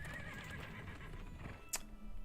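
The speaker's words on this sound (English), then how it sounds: "A horse-drawn carriage hurls towards you." A horse whinnies and hooves clatter as a horse-drawn carriage rushes past in the fantasy video game Fighting Fantasy Legends. The scene rumbles steadily throughout, and a short bright burst cuts in near the end.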